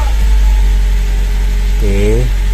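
A car engine with the gearbox in neutral idles loudly and steadily nearby, a constant low hum throughout, while someone briefly speaks over it near the end.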